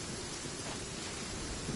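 Steady, dense rain with a low rumble of thunder in the video game Genshin Impact, a continuous wash of fairly faint noise with no talking.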